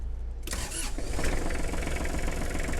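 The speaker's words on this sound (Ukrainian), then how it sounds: "Далі витискаємо щеплення та й заводимо тракторець." A small Kubota GL23 (Hinomoto GL23) tractor diesel engine cranks and catches after a short silence, then settles into a loud, steady rattling idle close by.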